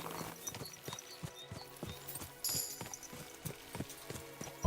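Horse hooves clip-clop in the video game Kingdom Come: Deliverance 2 as a steady, evenly spaced trot of sharp knocks, moderately close, with faint game ambience and a brief bright chime partway through.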